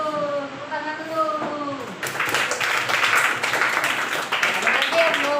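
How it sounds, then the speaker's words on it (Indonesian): A fifth-grade class breaks into a burst of steady clapping after a teacher speaks, the dense applause continuing for several seconds with voices faintly mixed in. "Tepuk tangan dulu."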